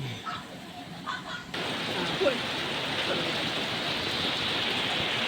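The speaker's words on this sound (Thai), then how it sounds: "ฝนตกแรง" Heavy rain pours in a dense, steady hiss, swelling suddenly louder partway through and continuing unbroken to the end.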